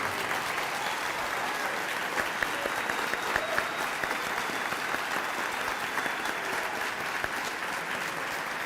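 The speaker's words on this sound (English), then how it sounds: "Please give them a round of applause." An audience at an elementary school dedication applauds the school staff, a sustained, even wash of clapping from many hands with occasional sharper claps standing out.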